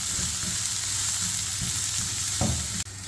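Vegetables for fried rice (green peppers, carrots, broccoli and cauliflower) sautéing in a pan, giving a loud, continuous sizzle with soft stirring scrapes that cuts out abruptly near the end.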